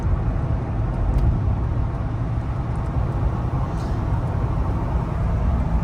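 Steady, smooth rumble of a 1975 Cadillac Eldorado rolling along at highway speed, up to 75 mph, with muted road and wind noise filling the cabin and no talking.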